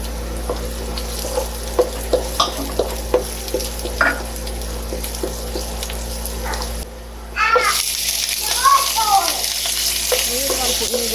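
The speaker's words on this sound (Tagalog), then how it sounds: "lagyan po natin ng mantika at ibigisa po natin ang sibuyas at bawang" Onion and garlic sauté in hot oil in a frying pan, giving a steady sizzle with a run of regular stirring clicks and scrapes, then a louder, fuller crackle after a brief drop midway.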